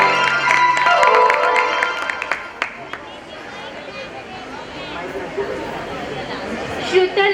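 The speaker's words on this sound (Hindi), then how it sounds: "जोरदार तालियां।" A speaker's amplified voice gives way to an audience's sustained applause at a Gyan Panchami stage program during a Jain scripture festival. The clapping forms a dense wash of many hands with some chatter underneath.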